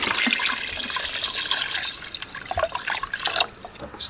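Clean water poured into a simmering cooking pot while making pares beef stew with whole peppercorns and onion leaves: a steady splashing pour that breaks into gurgles and drips, close and moderately loud, without speech.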